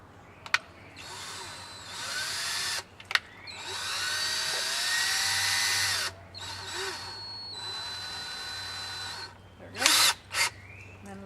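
Cordless power drill with a bit fitted, whirring in several bursts of varying length with short pauses and clicks between, close and fairly loud, ending with a couple of quick revving pulses.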